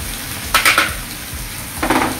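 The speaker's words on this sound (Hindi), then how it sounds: "सारी सामग्री को अच्छे से मिक्स कर लेंगे।" Veg Manchurian mixture with green chili, ginger-garlic paste, soy sauce and red chili sauce being stirred in a pan, giving two short bursts of scraping and sizzling over a steady background hiss, with no talking.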